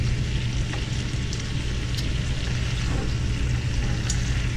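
Chorizo sausage cooks on a Power Smokeless Grill XL with a continuous even sizzle and low hum, faint pops scattered throughout, no talking.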